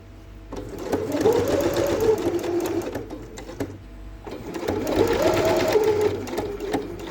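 A sewing machine stitches a collar onto the neckline of a Heather Blazer jacket from Friday Pattern Company, whirring in two close, sustained runs separated by a brief slowdown.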